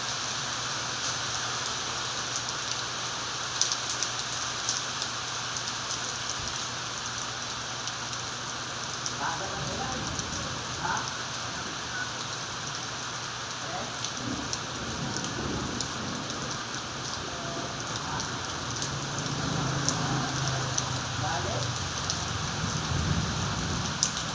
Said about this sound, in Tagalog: Sarap maligo ng ulan guys.